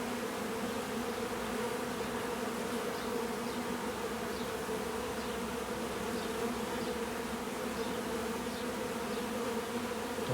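Honeybees buzzing steadily and continuously throughout, a dense close swarm hum during installation of a bee package into a hive, with no voices.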